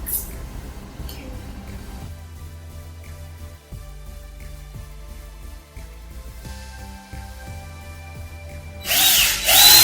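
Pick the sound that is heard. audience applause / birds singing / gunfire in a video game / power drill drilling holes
power drill drilling holes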